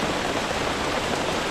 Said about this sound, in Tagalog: Grabe talaga ulan dito pag December.